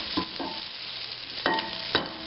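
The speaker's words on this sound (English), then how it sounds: "We're going to put this onion in now." Onion added to a hot pot of New Orleans Creole white beans, sizzling steadily while a spoon scrapes and stirs in a few distinct strokes, close and clear with no talking.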